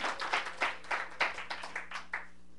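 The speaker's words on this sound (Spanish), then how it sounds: "Un aplauso al Señor." Scattered hand clapping from a small church congregation, a dozen or so distinct claps at an uneven rhythm, fairly faint and slightly distant, with no talk over it.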